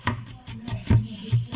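A knife chopping tomatoes on a cutting board, with about eight sharp thuds in an uneven rhythm, close and distinct, with no voices.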